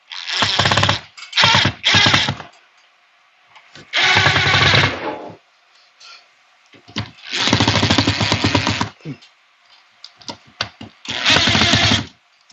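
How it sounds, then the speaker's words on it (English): Bursts of a power screwdriver or drill driving screws into an in-wall cable management box, several loud whirring runs of about a second each separated by quiet pauses, close by with no talking. "I'm going to carefully push these into place and then tighten them."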